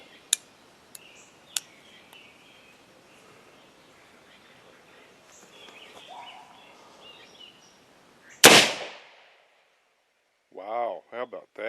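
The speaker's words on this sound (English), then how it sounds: "put the plastic Capgun cap on top of that. So we're going to see if it will fire." A black powder revolver primed with a plastic cap gun cap fires one sharp, loud shot after quiet handling clicks, and an excited voice follows.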